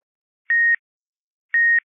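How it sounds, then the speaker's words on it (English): An electronic device gives two identical short beeps about a second apart, clean and steady in pitch, with silence between them and no other sound. "It's still beeping though."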